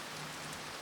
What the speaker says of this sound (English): Meanwhile, in Ishgard, it's raining.